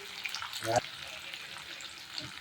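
Green chillies frying in a pan for poha, a soft sizzle and crackle under faint background with a brief louder burst as they hit the oil.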